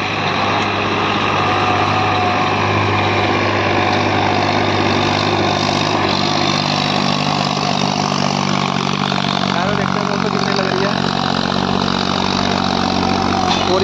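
Diesel tractor working hard at 1700 rpm while dragging a 9x9 harrow through a field, its loud, constant engine roar running unbroken from start to finish.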